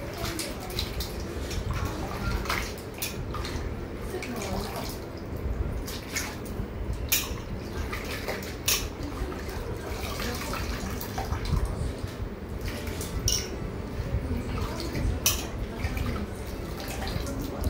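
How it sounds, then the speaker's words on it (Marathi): Sliced potato wafers are swished and washed by hand in a vessel of water, giving continuous splashing and sloshing with small drips, fairly close and moderately quiet. "आता एका पाण्याने धुवून झालेले आहे, आता दुसऱ्या पाण्याने मी पुन्हा धुवायला घेते."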